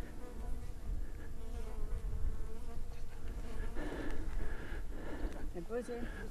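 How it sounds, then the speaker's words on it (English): Bees buzz around a hilltop trig point, a swarm of close, wavering insect drones passing near and away continuously, with wind rumble beneath and a voice speaking over it at moments. "These bees are crazy."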